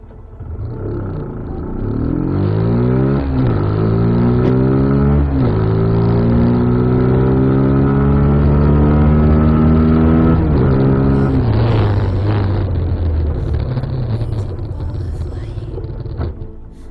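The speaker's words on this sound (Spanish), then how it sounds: "vamos a arrancarla y vamos a ver si está solucionado" A Zontes motorcycle engine starts and revs up repeatedly after a brake fluid change and bleed, a loud, close, steady rumble with rising and falling pitch sweeps, then settling toward idle near the end.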